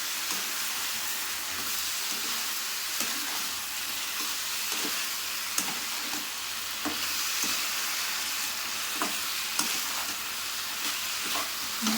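Cumin, ginger paste and green chilli paste frying in a pan as a base for a light Bengali egg curry, a steady close sizzle with scattered spits and pops, no talk over it.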